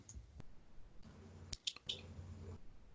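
A computer mouse clicks a few times while someone edits a web page, producing quiet, sharp taps in a short cluster over a faint room hush.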